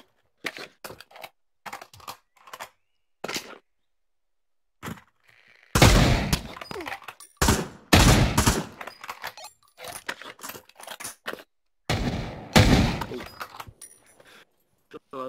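Gunfire in the VR shooter game Pavlov VR comes in sharp bursts and rapid volleys, loud and close, with several short separate shots and silent gaps between them; a voice is heard briefly.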